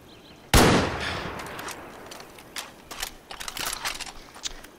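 A single sharp, loud gunshot cracks out while shooting ducks in Far Cry New Dawn, its echo decaying, followed by a scattering of quieter pops and clicks.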